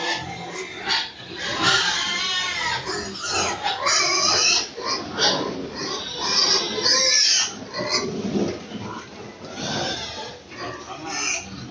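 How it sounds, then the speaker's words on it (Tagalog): A nursery pen of pigs on a livestock farm grunts and squeals continuously, a busy, overlapping chorus of oinks and shrieks, close and fairly loud. "Kondisyon ng baboy."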